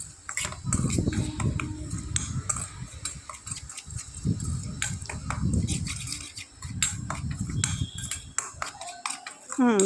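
A spoon stirs Kashmiri chilli, turmeric, coriander and cumin powders in a bowl, scraping and clinking steadily in close, continuous bursts with brief pauses.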